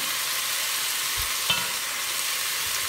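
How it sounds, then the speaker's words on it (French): Onion, garlic and coarsely chopped tomatoes cooking in a pan: an even, continuous sizzle with a soft knock or two, steady and fairly quiet, no voices. "une fois que l'oignon et l'ail est un peu revenu, on va y rajouter toutes nos tomates que nous avons coupées grossièrement"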